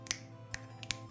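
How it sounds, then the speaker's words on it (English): Three crisp finger snaps, close and fairly quiet, spaced irregularly over about a second against a low steady hum, with no talking. "snap your fingers in the air"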